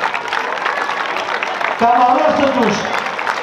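A crowd applauds at the 2024 Eleftheria parade and cultural dances in Kato Nevrokopi, Greece, a steady wash of clapping that swells partway through while someone speaks over it through a loudspeaker.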